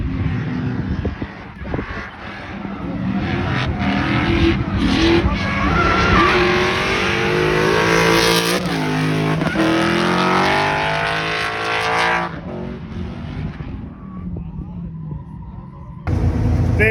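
A BMW E46 fitted with a Mustang GT 5.0 V8 engine running on the Tor Białystok race track, a loud close engine roar that rises and falls through gear changes, with tyre noise and some talk.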